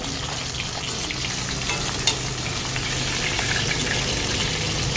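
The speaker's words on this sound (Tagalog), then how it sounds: "Pritong tilapia guys." Tilapia fries in a pan with a dense, steady sizzle and crackle of hot oil throughout, close and even, with a small pop near the middle.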